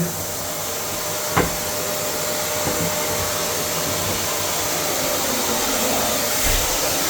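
Vacuum cleaner running steadily while cleaning around a toilet during an end-of-tenancy bathroom clean, a continuous close whirring drone with a couple of brief knocks as the nozzle bumps surfaces.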